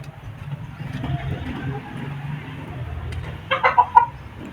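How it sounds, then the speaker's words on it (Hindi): A rooster and hens cluck near a farmyard shelter, with low, continuous murmuring clucks and then a short burst of louder, sharper clucks close by toward the end. "ये है मुर्गा"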